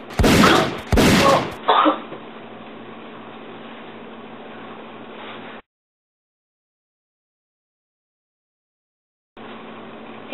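Two loud, sharp gunshot bursts from a video game open the scene, followed by a steady hum of in-game ambience that cuts to silence and then returns.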